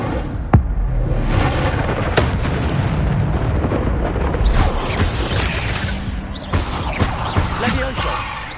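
A fiery Incendio spell from the Hogwarts Legacy video game erupts with sharp blasts and a sustained roaring whoosh of flame, loud and dense, with further bursts of spell impacts and combat noise throughout.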